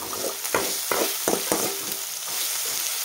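Chili powder masala sautéing in oil in a pan for spicy leftover-rice phodnicha bhaat, a steady sizzle broken by several scraping spoon strokes, close and fairly loud.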